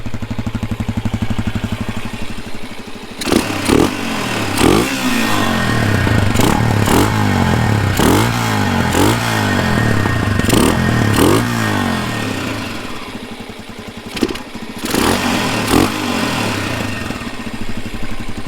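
Small cheap dirt bike engine idles before the throttle is twisted in a series of rising and falling revs, loud and close with a choppy, uneven rhythm, then a couple of final short blips.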